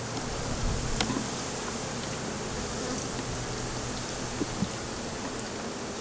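Honey bees from a managed hive on the Big Island hum in a soft, continuous drone while brood frames are pulled out and inspected, a faint steady buzz with a few closer passes and no voices.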